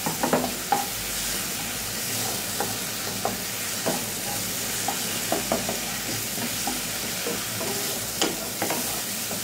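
Masala paste for prawn malai curry fries and sizzles steadily in hot oil, with sharp spoon scrapes and clicks breaking through the continuous hiss.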